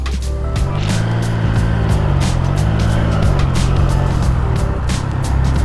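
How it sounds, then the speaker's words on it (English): A 2022 Triumph Trident 660 motorcycle is being ridden, its engine droning steadily with pitch that rises and falls as the throttle changes, overlaid with gusty rushing noise from close by. "So this is the 2022 Triumph Trident 660. This is my first time on this bike."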